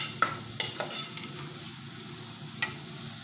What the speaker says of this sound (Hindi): इसको मिक्स करेंगे, आंच को तेज़ कर देंगे और इसको तकरीबन 2 से 3 मिनट भूनेंगे